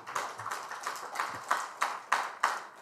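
Lecture audience clapping in a hall, a handful of sharp, evenly spaced claps that settle into a steady rhythmic beat, fairly quiet and slightly echoing.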